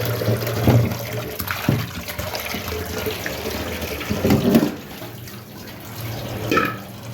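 Tap water runs into a sink while fish is rinsed by hand, the splashing swelling in several louder bursts as the fish is moved under the stream, with no talk.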